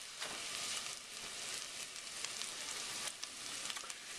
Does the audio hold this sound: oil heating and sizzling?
yes